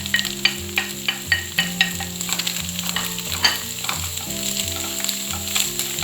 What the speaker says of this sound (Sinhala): කැරට් ටික තප්පර 30ක් විතර හොඳට සෝඩ කරගන්න ඕනේ.